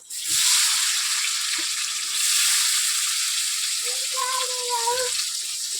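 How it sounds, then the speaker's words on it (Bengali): Onion and chopped green chilli fry in hot oil in a kadai wok, giving a steady, loud, close sizzle with a few soft stirring knocks and a brief squeaky scrape near the end. "কড়াই তেলের মধ্যে পেঁয়াজ আর কাঁচা লঙ্কাটা দিয়ে দিয়েছি"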